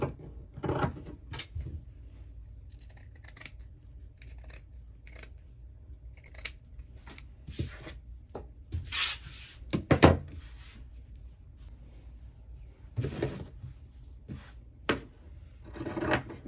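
Pinking shears snip through the fabric seam allowance of a sewn pillow in a steady series of close, crisp cuts with short pauses, and no voices.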